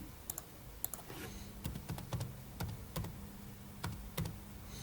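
Keys clatter on a computer keyboard as a password is typed into an online learning system's account page, a close series of quick irregular clicks in short bursts with no talking.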